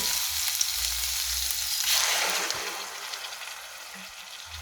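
Garlic and ginger roast in a pan as puree is added, giving a steady, close sizzle and frying hiss. The sizzle swells briefly as the puree goes in, then settles into a softer bubbling crackle.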